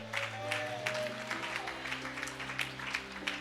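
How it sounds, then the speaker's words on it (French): A church congregation claps together, a steady wash of applause that stays loud for the whole stretch, with a sustained organ or keyboard tone ringing underneath. "On acclame encore la parole du Seigneur."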